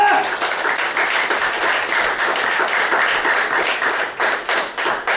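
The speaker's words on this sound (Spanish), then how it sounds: "Denle un aplauso al Señor." A church congregation claps and applauds together at a worship service, a dense, steady wash of many hands that runs throughout, with a voice or two mixed in and the clapping thinning slightly toward the end.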